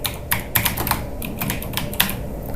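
Sample text being typed on a computer keyboard, a steady run of close, crisp key clicks in quick uneven rhythm, with no voice over it.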